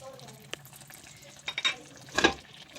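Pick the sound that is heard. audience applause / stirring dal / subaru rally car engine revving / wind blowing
stirring dal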